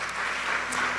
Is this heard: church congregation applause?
yes